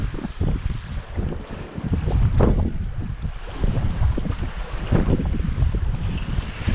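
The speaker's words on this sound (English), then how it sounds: "I've got a northerly wind that's cutting right across me like that" A steady northerly wind blows across the Guernsey shoreline, buffeting the microphone with a loud, continuous rushing roar and low rumbling gusts, with no voices.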